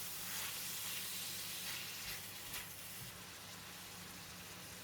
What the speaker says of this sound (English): Continue to stir until all the pork changes to a pale color.